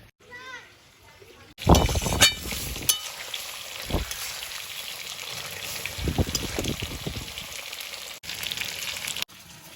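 Loud sizzling bursts out as dried red chillies, panch phoron, garlic and cumin hit hot oil in a wok for tempering dal, a steady crackling hiss with a few scraping stirs and clinks near the start.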